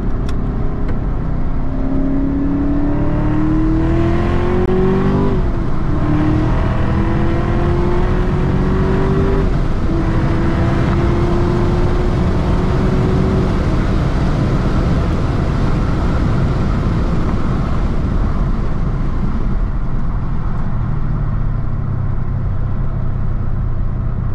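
A Chevrolet Camaro ZL1 pulls hard along a back road, its engine note climbing through rising revs with gear changes, loud and steady over constant road and wind roar.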